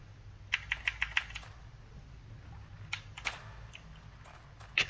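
Computer keyboard keys clacking during EverQuest II wizard gameplay, a few quick bursts of close, crisp taps spread across the stretch over a steady low background hum.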